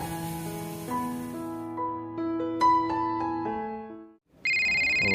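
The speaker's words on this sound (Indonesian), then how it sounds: "Ada telepon nih." A melodic electronic phone ringtone plays a rising and falling tune of clear tones, pauses briefly, then resumes with a brighter, higher-pitched ring.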